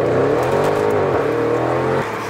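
A car on a rolling-road dynamometer revs loudly and close up, its engine note climbing then dropping sharply at an upshift before pulling again.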